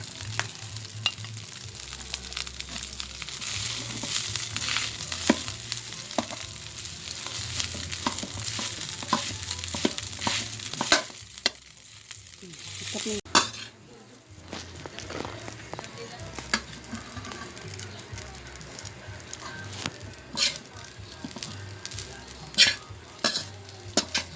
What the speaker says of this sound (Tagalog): isasangag ko ang aming kanin na malamig